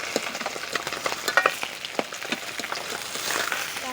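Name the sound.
koi fish frying in oil in a pan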